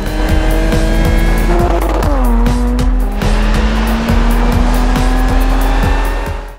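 A Mercedes-Benz SLS AMG GT Roadster roars away hard, its engine note sliding in pitch over a sustained tire squeal, loud and close throughout with no talking.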